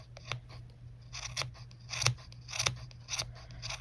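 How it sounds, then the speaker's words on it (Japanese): Scissors snipping protruding yarn on a handmade pom-pom as the ball is rotated: crisp, close metallic snips in an irregular rhythm, a few per second, against a quiet background with no talk. "感覚でハサミを動かしてるっていう感じです。"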